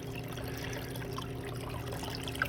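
Pond water trickling steadily through a DIY bog filter made from a 5-gallon bucket filled with stone on a patio goldfish pond, a soft continuous pour with no voices.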